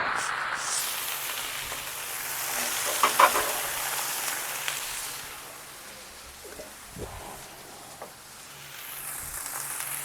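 Potatoes and onions sizzling on a hot griddle, a steady broadband hiss of frying with a few clattering bumps, faint voice now and then.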